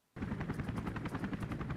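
Helicopter in the 007 Agent Under Fire video game, a loud continuous rotor thump with steady rhythmic chopping that starts abruptly and holds close and full throughout.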